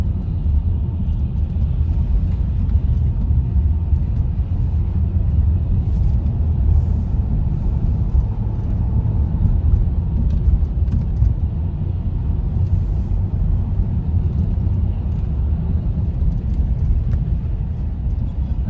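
Car driving along a city road on a driving-test route in Khmelnytskyi, heard from inside as a steady low engine and road rumble throughout.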